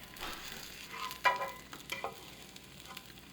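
An egg cheese sandwich frying in a pan, a soft, quiet sizzle with a few scraping spatula touches as it is flipped, close by, no talking.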